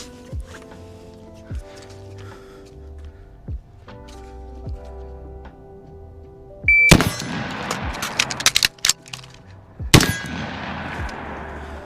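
A Glock 45 pistol fires two sharp, loud shots about three seconds apart during a one-reload-one drill on an outdoor range, with faint clinks and background noise before the shots.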